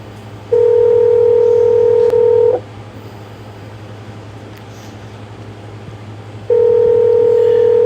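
A steady electronic telephone tone sounds for about two seconds, falls silent for several seconds over a low hum, then starts again.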